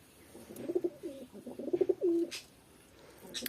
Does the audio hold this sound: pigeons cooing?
yes